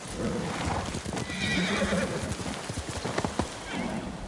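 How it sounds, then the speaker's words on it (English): Horse in the video game Ghost of Tsushima, with hooves clip-clopping at a gallop and a whinny cutting through, layered over in-game ambience and some voices. "Horse!"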